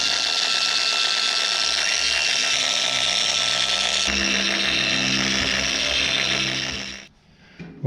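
A power polisher buffs the painted platform of a John Deere X300 mower with polishing compound. It makes a continuous, close, high-pitched whine that holds steady for about seven seconds, then stops abruptly.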